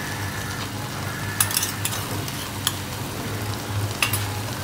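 Chole made from dried peas, salted and stirred while frying in a pan. A steady sizzle runs underneath, broken by sharp scraping clicks from the spoon at irregular intervals.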